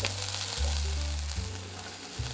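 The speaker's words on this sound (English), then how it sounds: "Stirring until the long onion is slightly browned enhances its sweetness" Chopped long onion stir-fries in a pan for fried rice, giving a steady sizzle under a low, constant hum, with a few soft shifts as it is moved around.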